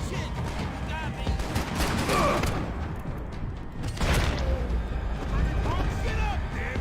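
Gunfire in the video game Max Payne 3, rapid bursts of shots and impacts running throughout, dense and loud with heavier blasts around the two and four second marks, layered with game sound effects.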